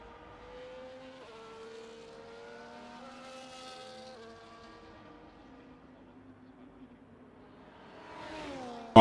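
Race cars in the F1 24 video game on the formation lap, engines droning and shifting pitch through gear changes at moderate distance, ending with a rising engine rush and a brief sharp burst.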